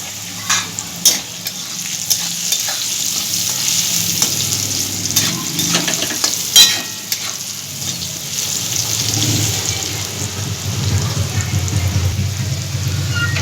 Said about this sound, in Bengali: আলুগুলো আমি লাল লাল করে এরকম করে ভেজে নিয়েছি